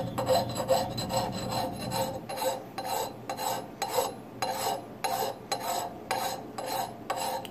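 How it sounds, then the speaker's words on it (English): Draw filing a secondary bevel on a wedge axe with light pressure: a steady series of close, rhythmic rasping strokes, about ten to twelve in a row, each scrape rising and fading, with metallic ring. "I'm doing a draw filing right now"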